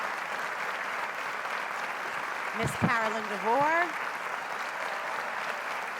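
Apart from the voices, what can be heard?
audience applause for honorees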